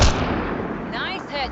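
A single sharp gunshot cracks at the start in a Mass Effect Andromeda firefight, its report ringing out briefly, followed by short tonal game effects and a voice.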